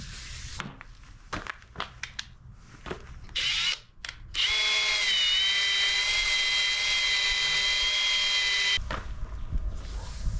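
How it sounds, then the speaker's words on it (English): A power drill spinning a 500-grit sanding pad on a 2012 Ram headlight whirs up and runs at a steady high-pitched whine, preceded by some handling clatter and brief starts. "So the next thing will be to use the 500 grit sanding pad."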